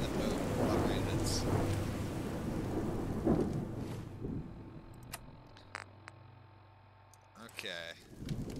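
Heavy rain pours down in the video game Fallout 4 with rolling rumbles, dense and loud at first, then thinning out to scattered clicks and game sounds before picking up again.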